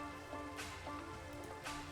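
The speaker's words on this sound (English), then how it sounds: "It's raining again?" Rain falls in the Minecraft video game in hardcore mode, a steady, soft patter and hiss that holds evenly throughout with no voices over it.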